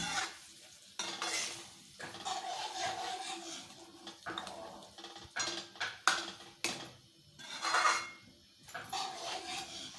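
Pav bhaji vegetables get stirred and mixed in hot oil in a pan, with scraping spoon strokes in bursts over a soft sizzle and a few clanks against the pan, close by and without talk.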